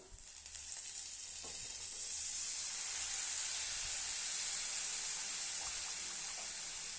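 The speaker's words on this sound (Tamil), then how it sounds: "இதில் புளி கரைசலை எடுத்து ஊற்றிடலாம்." Tamarind extract hits a hot pan of Kashmiri chili powder for a roasted brinjal curry, setting off a loud, steady sizzle and hiss that swells slightly and holds for several seconds.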